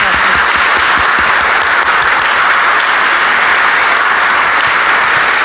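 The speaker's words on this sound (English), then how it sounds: "Let's give them a round of applause." Sustained, dense applause from an audience at a gathering on loneliness, loud and steady throughout with no pauses.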